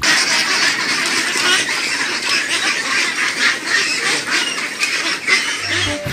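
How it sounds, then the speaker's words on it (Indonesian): A squeaky toy duck gives out quacking honks while being washed along with other toy vehicles, a steady run of squeaks under running water with no talk. "ada hewan bebek."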